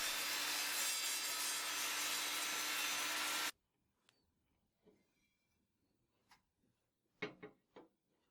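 An Evolution Fury5-S table saw cuts through stock with a loud, continuous whining rush that stops abruptly after a few seconds, leaving near-silence broken by scattered light knocks and clicks.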